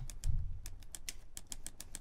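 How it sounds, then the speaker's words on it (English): Typewriter keystrokes used as a rhythmic element in the Atonement film score: a steady run of crisp, evenly spaced clacks, moderately soft, over a faint low musical bed, with no voices. "we have these typewriters come back in just with a bit more sort of movement"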